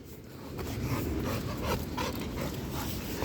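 Young dog, expected to grow large, pants and whimpers close by during an outdoor walk, with rapid breathy panting and soft whines over low background noise.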